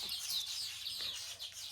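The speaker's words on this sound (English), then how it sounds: "listen to the birds" Birds outdoors in the Klein Karoo give dense, high, rapid chirping and twittering that continues without a break, bright and fairly near with no voices present.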